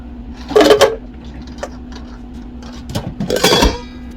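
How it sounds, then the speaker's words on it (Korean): Five ice cubes dropped into a blender container of green grape and kale juice, making two sharp clattering bursts of clinks and knocks, close and fairly loud, over a steady low hum. "그리고 여기에 얼음 5알을 넣어주세요"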